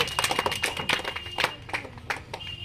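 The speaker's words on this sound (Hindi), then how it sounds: "और लकी कुमार के लिए भी एक बार जोर से तालियां बजा दीजिए।" Scattered hand claps from a small group at a non-fire cooking competition, cheering winner Lucky Kumar; the claps are irregular and fairly sparse, close by and moderately loud, with no talking over them.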